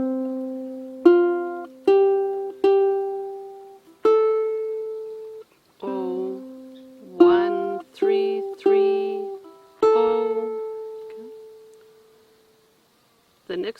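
A ukulele picks the opening phrase of The Water is Wide as single plucked notes, about a dozen spaced evenly with short gaps between them, clear and close, then a pause before one last faint note.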